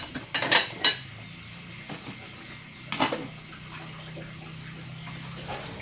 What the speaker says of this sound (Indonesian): Nah ini untuk cucian piringnya udah hampir selesai ya teman-teman ya.